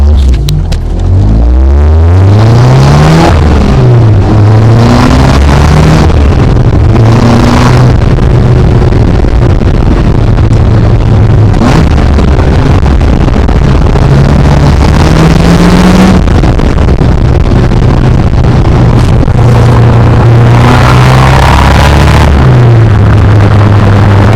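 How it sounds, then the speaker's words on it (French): A loud Caterham 275 S sports car engine revs up and down continuously while driving, rising and falling in pitch as it accelerates and shifts, close and dominant throughout. "ce qui est impressionnant, c'est quand on roule de manière un peu plus dynamique avec la voiture"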